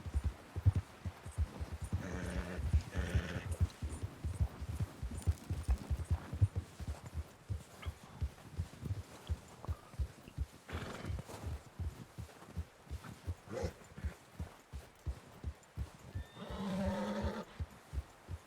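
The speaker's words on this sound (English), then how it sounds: "Get on the horse and we'll trot around." A horse in Red Dead Redemption 2 trots with a steady, quiet clip-clop rhythm, punctuated by a couple of short neighs and snorts, all fairly faint and with no talking.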